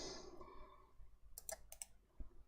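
A handful of sharp computer mouse clicks, close and faint, heard over a quiet room hum after a soft hiss fades out, with no talking.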